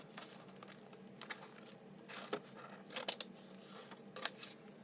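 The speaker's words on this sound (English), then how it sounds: "I'll have to cut it better with the little scissors" Small scissors snipping through paper while making junk journal embellishments, a series of sharp crisp cuts in short bursts, close up and fairly quiet, with no talking.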